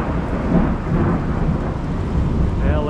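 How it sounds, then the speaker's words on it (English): Thunder rumbles loudly and continuously through a summer thunderstorm in Dramalj, with steady rain falling throughout. "all of a sudden there's a thunderstorm."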